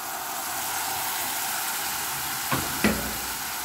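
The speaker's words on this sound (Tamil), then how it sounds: "இந்த சாஸ் இதில் ஆட் பண்ணுங்க." Homemade chilli paste sauce frying in a hot pan, a steady loud sizzle heard up close throughout, with a couple of brief scrapes or stirs near the end.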